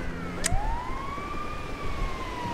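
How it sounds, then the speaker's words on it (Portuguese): A fire truck siren wails in the video game GTA V, its rising-and-falling electronic tone sweeping up sharply then holding high and steady, loud and close over faint background noise, with a brief sharp click near the start. "Eu vou com a sirene ligada mesmo"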